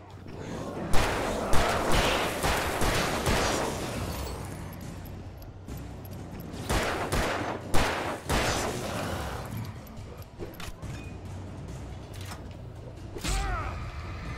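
Gunfire in the game Alan Wake Remastered: a handful of sharp, loud shots come in bursts amid creaks and clanking mechanisms, with scattered crashes and a quiet voice in places.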